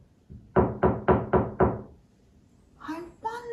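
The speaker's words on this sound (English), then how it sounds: "there was a knock at the door." Five firm, evenly spaced knocks rap on a door nearby, followed by a short spoken voice.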